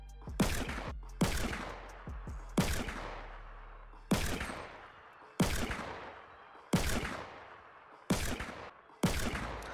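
Gunfire in a Fortnite battle royale match: a series of about eight loud, sharp shots spaced roughly a second apart, each with a quick decaying echo, no talking over them.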